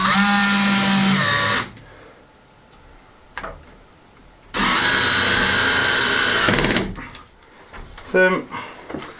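Power screwdriver drives a screw into a handmade wooden door, two sustained loud whirring bursts separated by a quiet pause, with a short clack and some handling noise afterward.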